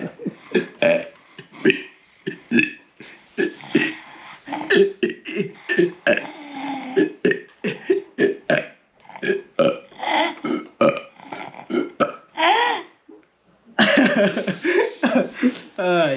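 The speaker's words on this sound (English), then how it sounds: "She loves laughing at my burps." A man lets out a run of loud, close burps, many in quick succession and some drawn out, mixed with chuckling and laughter near the end.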